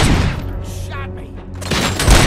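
Gunfire in RoboCop Rogue City during a prison break, loud booming shots at the start and end with a quieter gap between, and a voice speaking over it.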